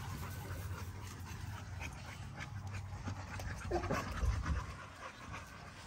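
Under-a-year-old dogs, including five-month-old puppies, pant steadily while playing, a soft continuous breathy rhythm over low rumbling background noise with a few nearby scuffles.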